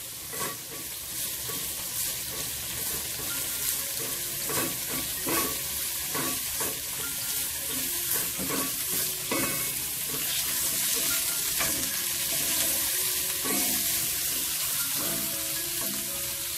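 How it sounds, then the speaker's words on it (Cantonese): Garlic and fermented black beans stir-fried in a wok with ginger for a pork rib and bitter gourd dish, a steady close sizzle broken by repeated scraping stirs, with some water-like splashing, no talking. "蒜頭豆豉爆一爆"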